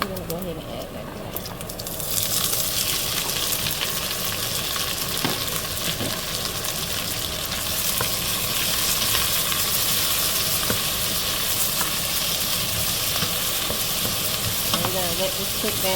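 Chopped vegetables for Southern fried cabbage drop into hot bacon grease in a pan, starting a loud, dense, continuous sizzle after a quieter opening, with stirring and some talking.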